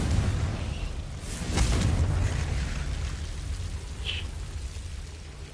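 A Confringo explosive spell cast in Hogwarts Legacy, a loud booming burst that swells and fades over a rumbling roar, followed by a brief bright chime-like flick.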